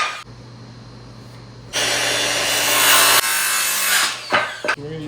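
A saw makes a straight cut through a wooden board for a DIY wheel rack, giving a loud, steady rasping run that starts after a quiet pause, then breaks off into a few short scrapes at the end.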